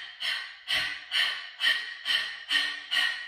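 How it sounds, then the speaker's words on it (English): Panting breaths through an open mouth during a yoga breathing exercise, seven quick rhythmic huffs repeated at an even pace, close and clear with no talking. "Open the mouth and pant like a dog."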